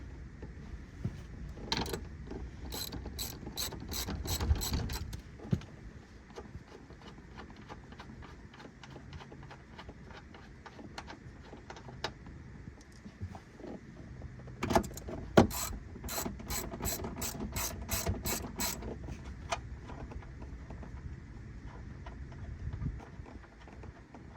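A ratchet loosening bolts inside a Dodge Charger being stripped down, heard as fast close clicking runs in several bursts with quieter clicks and handling noise between them.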